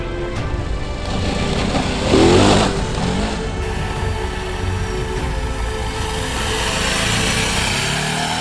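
A Ducati DesertX Rally motorcycle out in the Moroccan desert, its engine running with a brief rev swell early on, set against broad wind-like rushing noise.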